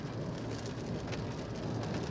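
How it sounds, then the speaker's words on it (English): Heavy rain pours steadily on a car during a drive near the Chicago airport, a dense constant hiss of drops with low rumbling thunder underneath, loud and close throughout. "And it's raining and thundering and lightning."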